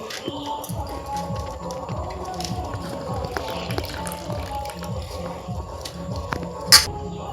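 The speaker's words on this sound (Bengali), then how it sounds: "এই জল থেকে আমি এইভাবে জলটা ঝরিয়ে চিপে চিপে আলুগুলো একটা থালায় উঠিয়ে নেব" Grated potatoes being squeezed by hand and drained of water, giving steady rhythmic wet squelches and dripping, with a faint sharp click near the end.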